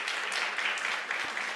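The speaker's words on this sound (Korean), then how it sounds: "격려의 박수를 좀 보내면 좋겠습니다." Steady applause from a church youth service congregation fills the space, a continuous patter of clapping hands without pause.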